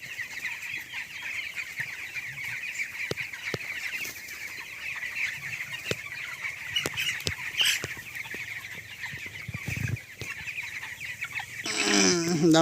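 Poultry chicks 19 days old on a farm peep and cluck continuously with high-pitched chirps, a steady flock chorus at close range with occasional sharper calls and some rustling toward the end.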